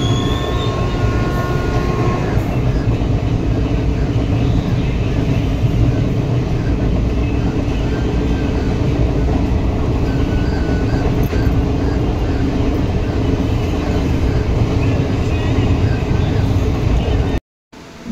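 A passenger train runs steadily, heard from inside the car as a loud, continuous rumble and rattle of wheels on track, with voices under it, ending in an abrupt cut.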